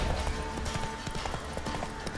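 Horse hooves clip-clopping in The Witcher 3, a steady rapid rhythm of hoof beats on the ground, close and fairly loud, with faint ambient game sound behind and no talking.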